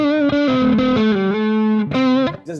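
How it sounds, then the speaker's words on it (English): A Les Paul electric guitar through a distorted, Marshall-style high-gain amp tone, playing loud, sustained, harmonically rich notes that glide between pitches in a classic rock phrase, alone and up front. "It's like a Marshall tone, the Marshall Les Paul tone, and it's just crazy good at that."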